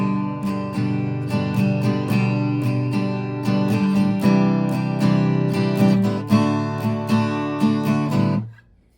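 Acoustic guitar strummed in a down-down-up-down-up pattern, bright chords ringing close and clear with steady rhythmic strokes, alone without voice, ending with a final stroke that fades out.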